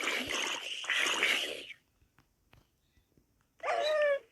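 A dog barks in the video game Minecraft, one short burst of yelping barks near the end after a stretch of quiet game noise, preceded by louder mixed game sound.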